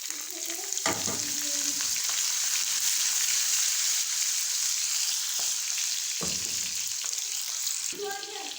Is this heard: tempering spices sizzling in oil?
yes